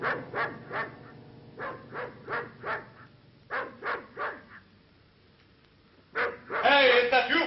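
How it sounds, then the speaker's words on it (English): Several dogs bark in short rhythmic bursts, loud and close, with a pause before a louder, excited burst of barking and yelping at the end; a voice is mixed in, in a 1960s British black-and-white television drama. "Stop barking!"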